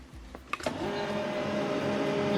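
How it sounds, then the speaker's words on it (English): An HP LaserJet M140we laser printer starts up and prints a network configuration report, a few clicks and clunks giving way to a steady mechanical hum and whir that continues throughout, nearby and moderately loud. "Then you wait for the network paper to be printed out."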